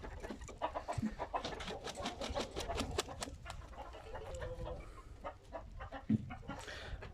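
A Hint rooster chases hens around a farmyard while the chickens cluck in busy, overlapping bursts, with scattered sharper squawks close by and a steady murmur of barnyard activity underneath.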